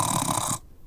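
A voice imitates a sleeping bear snoring during a children's story reading, giving one raspy, rumbling snore that stops abruptly into quiet.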